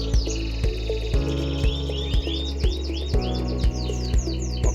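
A canary sings in a close, steady run of bright, rapid chirps and trills, with sharp repeated clicks or taps sounding at a regular pace under the song.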